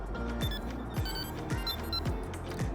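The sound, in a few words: Wolf carp fishing bite alarm tone on QR receiver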